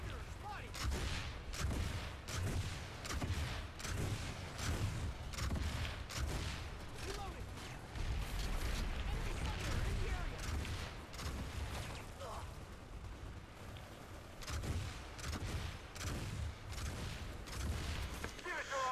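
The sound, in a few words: gunfire from enemy players in the video game Planetside 2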